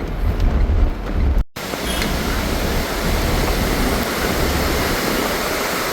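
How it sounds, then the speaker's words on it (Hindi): A loud, continuous roar of a waterfall swollen by heavy rain rushes close by, steady and broadband throughout, with a brief cut near the start, on the Nainital road. "कितना ज़्यादा पानी है इस झरने में"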